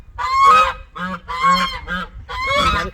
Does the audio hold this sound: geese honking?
yes